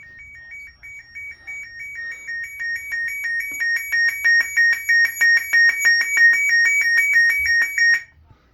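A weather alert radio sounds a loud, high-pitched electronic alarm, beeping rapidly and steadily for several seconds, then stopping abruptly.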